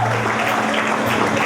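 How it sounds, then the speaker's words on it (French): Audience applause at a poetry event, a brief continuous burst of many hands clapping, fairly loud and steady, with faint murmuring underneath. "pour une première fois, on applaudit s'il vous plaît."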